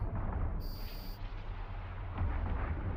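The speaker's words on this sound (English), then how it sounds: "Gonna open fire now." Ship weapons open fire in the space game Eve Online, a dull rumbling barrage of low booming blasts with a short high electronic tone near the start.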